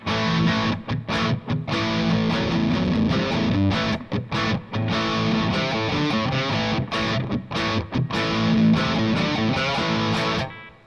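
Crunchy overdriven electric guitar through a Mosky Plexi-M overdrive pedal, Marshall-style tone, playing chords and riffs continuously, loud and close, with brief pauses between phrases.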